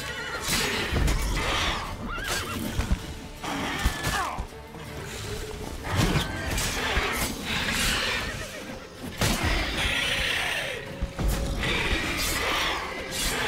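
Roach, a horse in the video game The Witcher 3: Hearts of Stone, neighs and whinnies several times amid clip-clopping hooves, thuds and a dense, busy game mix that stays loud throughout.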